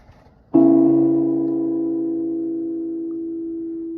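A single acoustic guitar chord is pinched with the fingers once and left to ring out, slowly fading, quiet and close with nothing else around it.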